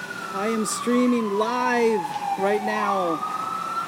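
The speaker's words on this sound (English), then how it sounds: "Excuse the sirens." A wailing siren sweeps slowly downward then rises again in the background while someone talks over it.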